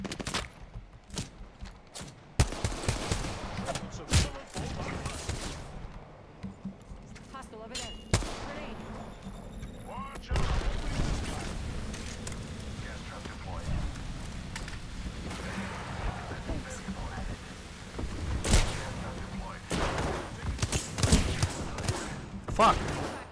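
Gunfire in the video game Apex Legends aimed at the player, with bursts and loud cracks scattered through the clip amid game noise, with a voice talking at times.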